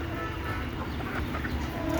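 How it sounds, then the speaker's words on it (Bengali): Desi chickens on a rooftop farm, faint clucking and low fowl murmurs over a steady background hum, heard for a couple of seconds without talk. "খামারে এই যে দেশি মুরগি পালন করতেছি"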